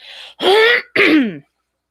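A close, forceful throat clearing in two harsh bursts after a brief breathy lead-in, then silence.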